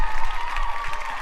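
Audience applause for the cast of an online variety-show performance of The Last Five Years, a dense, steady patter of clapping at moderate loudness with light crowd noise.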